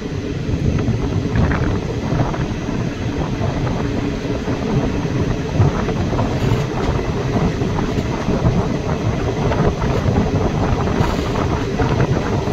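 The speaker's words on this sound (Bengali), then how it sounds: "ট্রেন ধীরে ধীরে ধুলিয়ান স্টেশন এন্টার করছে।" The Malda-Howrah Intercity Express runs slowly on curving track near Dhulian station, a loud steady low rumble of wheels on rails with faint rhythmic clatter throughout and no talking.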